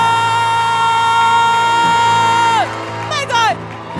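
A church congregation cheers during a worship service, with a long sustained whoop held at one pitch that then slides downward, followed by a couple of shorter falling shouts, loud and close.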